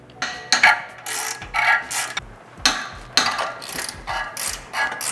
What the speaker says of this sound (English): We're going to start by removing the factory spring bolts.